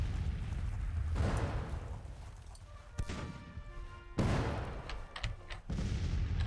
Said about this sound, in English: Should we initiate a bombardment?